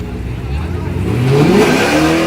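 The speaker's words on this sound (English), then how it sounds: "he know how to do a burnout" Car engine revving hard during a burnout at a Memphis street outlaws armdrop race, pitch climbing steadily and loud under crowd noise and talk.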